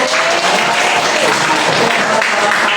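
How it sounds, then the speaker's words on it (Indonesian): A classroom of students claps for a classmate, producing loud, close, dense applause that stays steady and even for the whole stretch, with no voices breaking through. "Tepuk tangan buat Ali dulu"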